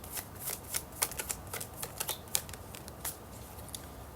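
Oracle cards being shuffled by hand for a reading, a quick run of crisp riffling snaps and soft flutters in an irregular rhythm, close and clear with no talking.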